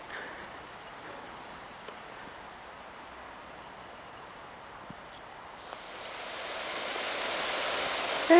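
Merced River flowing beside an abandoned fish hatchery at Wawona, a steady broadband rush of water that grows louder toward the end, with a few faint clicks.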